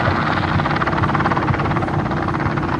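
Helicopter rotor during autorotation at an airshow, a continuous loud, throbbing rotor beat with rushing wind, steady throughout with no voices.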